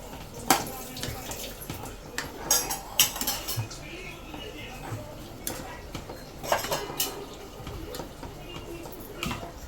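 A spoon stirs a pot of chicken kurma in a home kitchen, giving irregular metallic clinks and scrapes against the pan, with several sharp knocks over a soft background of kitchen noise.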